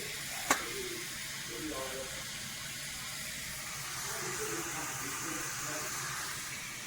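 Tomato and spices fry in a pan for prawn thokku, a faint, steady sizzle after a sharp clink at the start, with soft speech in the background.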